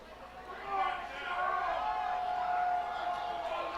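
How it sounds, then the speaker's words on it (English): A minor-league baseball crowd at a Binghamton Rumble Ponies versus Reading Fightin Phils game swells into a loud, sustained roar of chatter and cheering, with a voice speaking over it. "Crowd getting loud here for the Fightin' Phils, looking forward for some action to happen"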